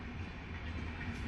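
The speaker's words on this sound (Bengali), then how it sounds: "কোন ট্রেন যাচ্ছে গো এখন?" A passing train, heard from a station area, makes a low, steady rumble that stays faint and continuous with no other sounds.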